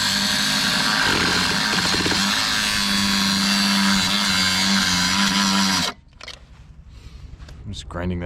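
A grinder works metal on the aluminum frame of a 600 triple buggy, making a loud, continuous buzzing whine close by that stops abruptly after about six seconds, leaving quieter background noise.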